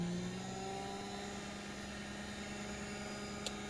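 Slot car motor running at about 3 volts: a steady, faint electric whine with sustained tonal hum, holding constant throughout with a brief click near the end.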